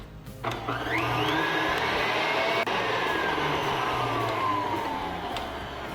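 A kitchen mixer runs steadily and loudly, blending chocolate muffin batter with a constant whirring drone and a slight rising whine, with no talking over it.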